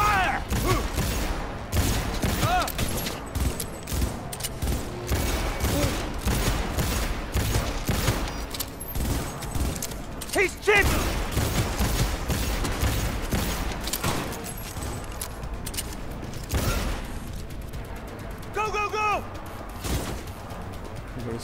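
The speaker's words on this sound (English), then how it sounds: "Open fire!" Dense, rapid gunfire crackles throughout a firefight in Cyberpunk 2077, with bursts of automatic shots, sharp impacts and occasional heavier blasts packed closely together and staying loud from start to finish.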